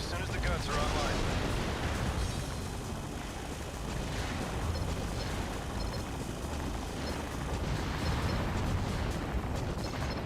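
Bazooka hits in the mech game Armored Core Silent Line, a dense rumbling barrage of explosive impacts and mechanical clatter churning continuously at moderate loudness, with a voice talking over it.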